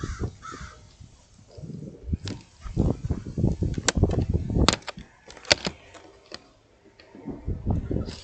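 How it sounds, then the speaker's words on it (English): Crows caw loudly and repeatedly nearby, harsh calls overlapping in irregular bursts over scattered clicks and knocks. "Yeah, man, I was listening to the crows."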